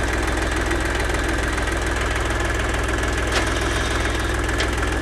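A lifting machine's engine runs steadily at idle before being shifted into gear, a continuous mid-to-low rumble with a faint knocking pulse and vibration, loud and close with no talking.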